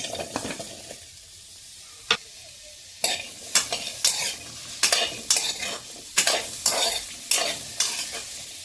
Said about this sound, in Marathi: आता आपण कांदे, लसूण, अद्रक, खोबरं आणि टोमॅटो भाजून घेऊ